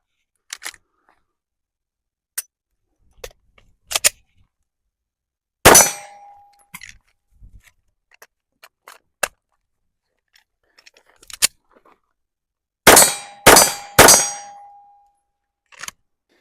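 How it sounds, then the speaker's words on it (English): Handgun slide worked by tap, roll and rack to clear a jam during an injured-shooter drill, heard as scattered sharp metallic clacks and clicks, followed by a quick string of three loud, sharp shots close by. "I'm going to work the slide, tap, roll, rack, just like I should. And I'm gonna engage the target"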